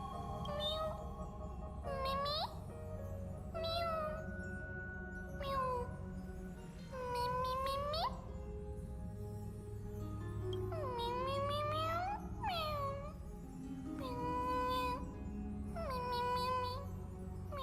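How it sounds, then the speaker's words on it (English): Cat meowing inside the video game Honkai Star Rail, a run of about ten distinct rising-and-falling meows, some drawn out into wavering cries, repeated steadily over a low hum of background game music. "it sounds like cat noises"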